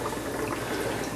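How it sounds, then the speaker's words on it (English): An aquarium air stone bubbling in a fish tank with clownfish babies, a soft continuous fizzing and gurgling of water at low volume. "It's because the air stone kicks up a lot of"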